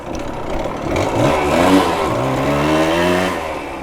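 A Yamaha DT100 motorcycle engine, a barn find being ridden again after years, revs up and holds a rising, buzzy pitch. The sound is close and loud and runs steadily through the whole stretch.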